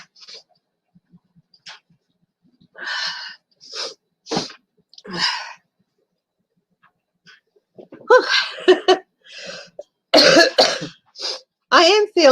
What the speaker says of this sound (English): Still got a bit of the cough